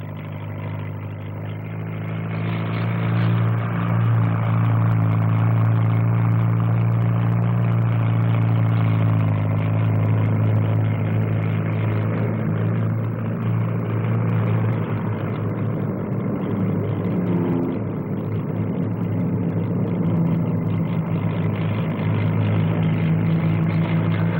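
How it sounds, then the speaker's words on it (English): A Westland Wessex helicopter's Napier Gazelle turbine engine drones steadily, with a strong low hum and whine that stays close and loud throughout, at the 1957 SBAC Farnborough flying display. "the new Wessex, which has a Napier Gazelle 3-turbine engine"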